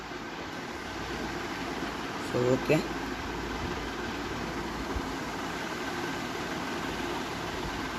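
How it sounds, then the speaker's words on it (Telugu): A train departs in the video game Indian Bike Driving 3D, a steady, even rumble with a short horn-like burst partway through, under a voice talking. "బయలుదేరిపోయింది ట్రైన్"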